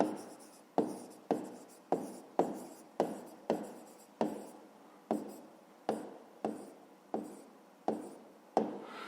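A pen scratches across paper in a series of short, regular strokes, about a dozen close, distinct scrapes in a quick rhythm while working through a school math exercise.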